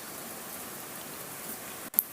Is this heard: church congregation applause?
no